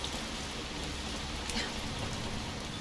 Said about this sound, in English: Yeah, it's raining and you're letting water in